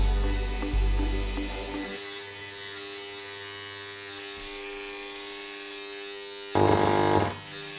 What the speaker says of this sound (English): put the end of the Dremel 290 up against the box and it's just vibrating